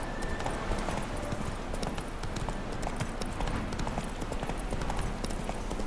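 Rapid clip-clop of a horse galloping in The Witcher 3 on PC, hooves beating in a steady fast rhythm, close and continuous throughout with no talk over it.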